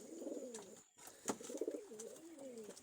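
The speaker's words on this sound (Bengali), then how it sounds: "এই একটা কবুতর উড়ে, এই একটা কবুতর এসে পড়িছে" Pigeons coo in repeated low, warbling phrases nearby, with a brief pause near the start, then continuous overlapping calls from several birds, including teddy pigeons.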